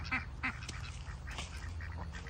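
Backyard poultry, chickens, calling in short clucking and squawking bursts, two louder calls near the start and softer calls scattered through, over a steady low background hum.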